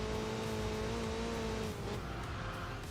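An upgraded car engine in the Enthusia Professional Racing game drones with a rough, aggressive exhaust note, holding steady and then dropping in pitch, loud and continuous with no talk.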